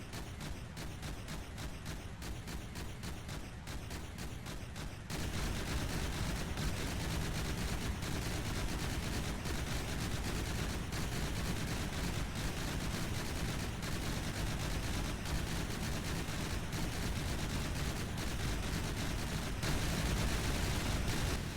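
Rapid, continuous gunfire from APS beltfed autoloader guns in the From The Depths game, a dense unbroken barrage that grows louder after the first few seconds and keeps pounding steadily to the end.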